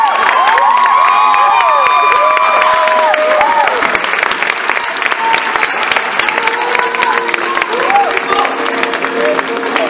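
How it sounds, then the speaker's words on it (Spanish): A theatre audience at the end of a stage play claps loudly and steadily throughout, with cheers, whoops and whistles rising over the dense, continuous applause. "Gracias por sus risas, por sus aplausos."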